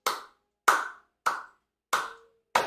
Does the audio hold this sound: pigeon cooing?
no